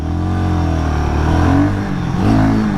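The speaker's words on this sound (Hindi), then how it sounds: "स्टार्ट करते हैं फर्स्ट गियर, और ये देखिए मैंने इसको स्पोर्ट मोड में डाल रखा है" A 2026 KTM Duke 350 or Royal Enfield Guerrilla 450 Apex motorcycle in sport mode pulls away in first gear, its engine note steady and loud, rising in pitch as it accelerates close by.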